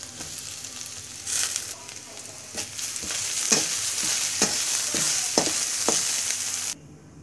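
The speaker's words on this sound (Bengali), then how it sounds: "এবার সেদ্ধ করা মুরগির মাংস দিয়ে দিব" Boiled chicken meat stirred in a hot wok over chopped onion for Bengali-style chicken egg soup, with a steady sizzle broken by repeated scraping strokes of the spatula, close and clear.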